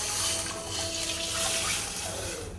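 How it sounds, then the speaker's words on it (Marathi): A steady rush of hot water pouring into a pot for chicken biryani, close and continuous, with a faint whine underneath and no talking. "ह्यामध्ये घालूया गरम पाणी पाणी घालून घेते"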